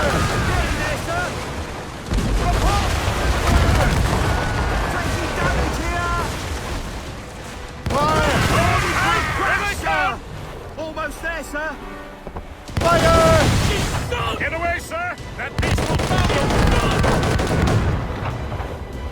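Ship cannons and mortars boom in repeated heavy volleys during a naval battle in Assassin's Creed Rogue, the bursts loud and rumbling, mixed with game music and crew shouting over the gunfire.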